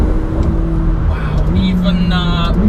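Engine of a McLaren 720S droning steadily from inside the cabin, its pitch stepping as gears change, loud and continuous beneath a voice talking over it.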